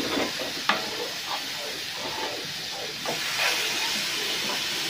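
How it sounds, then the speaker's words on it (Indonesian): Steady crackling sizzle of chicken grilling over heat, broad and continuous, with occasional soft clinks and pops, close by. "Ni kita nak tembai bakar ayam."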